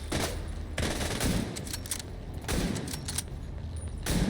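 Gunfire in The Division 2 comes as repeated bursts of sharp rifle shots in a loose rhythm, loud and close, with mechanical clicks between volleys.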